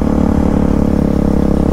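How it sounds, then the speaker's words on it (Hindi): A motorbike engine runs steadily nearby during a group Independence Day ride, its loud, continuous mid-range drone holding a constant pitch without clear revs. "क्या आवाज है यार इस बाइक की।"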